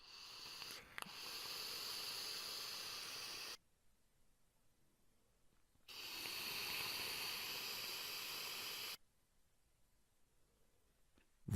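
Vaping on a Joyetech RiftCore Duo rebuildable atomizer at 40 watts, with air intakes fully open and a high-VG liquid, gives two long, steady airy hisses of a few seconds each, separated by quiet pauses.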